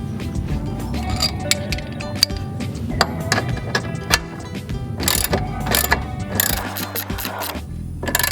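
A wrench tightens a ball joint puller on a Subaru control arm, giving repeated sharp ratcheting clicks and metallic ticks close by, in irregular bursts over steady low workshop rumble.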